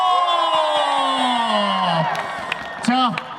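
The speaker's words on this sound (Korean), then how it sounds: "다시 한번 박수 보내주시기 바랍니다" Crowd cheering at a Korean baseball stadium during a post-game hero interview: a steady, loud roar of many voices with rising and falling shouts and whoops, and a brief louder burst near the end.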